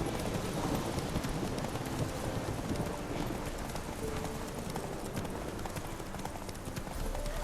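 Horse hooves galloping in The Witcher 3 video game, a rapid, continuous rhythmic clip-clop at moderate loudness over a busy background.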